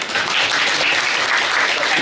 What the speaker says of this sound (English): let's clap hard for him